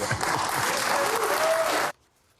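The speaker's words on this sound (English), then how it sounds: "It's apparently been getting applause everywhere he's tried it." A talk show studio audience claps in a loud, dense burst of applause that stops abruptly, leaving near silence.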